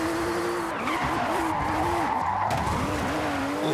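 GT3 race car in the Forza Horizon video game, tires squealing in wavering, pitch-bending skids over a constant engine drone, loud and close, with no talk.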